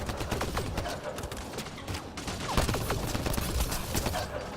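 Gunfire in the video game Mass Effect Andromeda, heard as a dense, continuous fusillade of rapid clattering shots with scattered louder bursts, at a steady moderate level.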